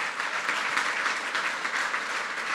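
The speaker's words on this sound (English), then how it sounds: "How about a quick round of applause?" After a tech talk, an audience breaks into brisk applause, a steady wash of many hands clapping at close range, unbroken and fairly loud, with no speech over it.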